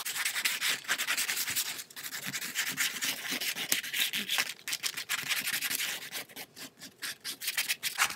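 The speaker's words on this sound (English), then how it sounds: "I'm not going to talk while I scrape" Paint being scraped across an art journal page, a continuous dry rasping and rubbing that runs steadily for several seconds with brief strokes and pauses, close and fairly quiet, with no talking.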